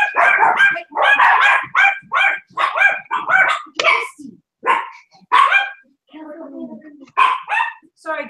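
Several dogs bark in quick, excited bursts close by, with yips mixed in and a brief whimper near the end.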